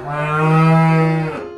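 A cartoon buffalo bellows in one long, loud, sustained moo that swells and then fades over about a second and a half, with nothing else heard.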